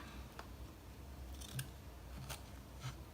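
Scissors snip around fabric in a sewing craft project, several crisp separate cuts spaced about a second apart, quiet and close with no talking.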